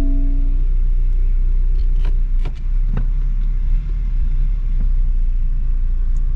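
A Mini Cooper S sits just after automatically parking itself, its engine idling as a steady low rumble, with a few faint clicks and knocks from inside the car.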